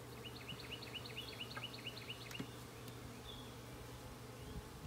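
Honey bees buzz steadily at the entrance of a walk-away split beehive, a dense continuous hum heard up close. Birds chirp in a quick rhythmic series in the background.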